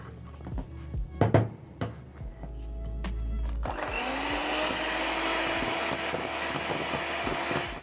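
Whipping cream beaten for homemade raspberry ice cream, a few knocks and clatters first, then a steady loud electric mixer whir that runs to the end without speech.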